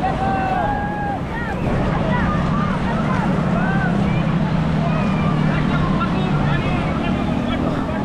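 Ocean waves at a crowded beach wash in steadily under strong wind noise, with faint distant voices.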